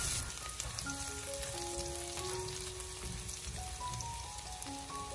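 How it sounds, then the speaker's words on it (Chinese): Ginger and scallions stir-frying over low heat in a little hot cooking oil, a constant dense sizzle with faint crackles and occasional utensil scrapes, close and continuous with no talking. "油热之后，把切好的姜葱放进锅中，用小火给它煸炒一下"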